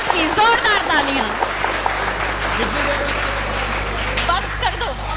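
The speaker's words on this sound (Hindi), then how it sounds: "जोरदार तालियां" A live audience at a Hindi comedy poetry show applauds loudly, dense sustained clapping with cheering voices mixed in throughout.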